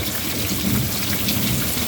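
Steady rain falls in a broad, even hiss with no breaks and no voices, close and fairly loud throughout.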